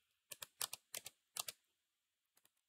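Quick keystrokes on a computer keyboard while entering a terminal command, a few short bursts of clicks with brief pauses, close and clear with no talking.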